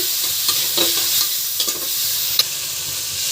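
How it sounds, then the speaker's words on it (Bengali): A spice masala with chilli powder and a splash of water is stirred and frying in a pan, a continuous soft sizzle with occasional light scraping taps of the spoon. "ভালো করে নেড়ে নেব।"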